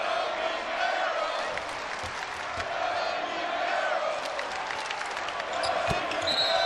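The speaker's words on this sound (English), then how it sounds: "And the chants raining down for Yogi Ferrell." A basketball arena crowd at a 2016 NCAA Tournament game between North Carolina and Indiana chants and cheers continuously, a dense roar with sneaker squeaks and ball bounces scattered through it.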